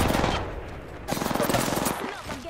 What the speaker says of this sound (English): Look, I'm getting shot at.